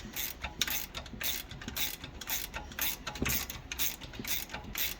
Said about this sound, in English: Then you can use a ratchet wrench and just go ahead and send it all the way in.